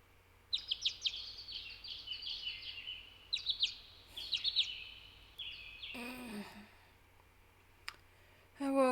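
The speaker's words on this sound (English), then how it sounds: "I woke to the sound of birds chirping." Small birds chirping in the morning, with bursts of high, quick tweets repeating at intervals, fairly clear against a quiet background, with a few other brief sounds near the end.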